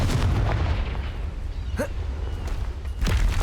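The Confringo fire spell is cast in the video game Hogwarts Legacy, producing a loud, booming explosive burst followed by crackling rumble and a second heavy blast near the end.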